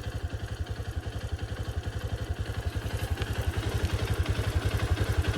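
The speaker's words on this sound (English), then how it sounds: "Runs pretty good, but it has like a little bit of a stuttery miss." Small motorcycle engine idling close up with a quick, even putter, each firing pulse distinct, broken by slight uneven stumbles from a stuttery miss, growing a little louder toward the end.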